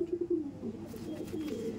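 Pigeons in a loft coo softly, a low steady murmuring call repeated under faint background noise, close by and without talk.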